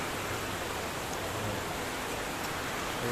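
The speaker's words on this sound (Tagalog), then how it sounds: "Lakas ng ulan." Steady heavy rain pours down, a dense continuous hiss with no let-up and no voices.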